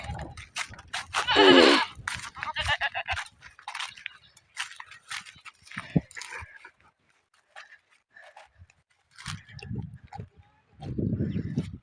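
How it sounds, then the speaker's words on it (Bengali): Goats in a field being fed rice starch water, with a loud close bleat near the start, then intermittent softer animal sounds, rustling and chewing noises broken by quiet gaps, and a burst of noise at the end. "এই দেখো খাচ্ছে ছাগল"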